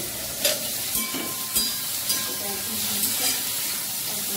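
Okra (bhindi) frying in a pan gives a continuous close sizzle, with a spatula stirring and scraping in soft regular strokes.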